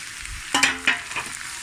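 Prawn and vegetable fried rice with ghee, ginger and garlic being stir-fried in a pan, giving a few sharp scraping tosses over a soft sizzle, close and with no voices.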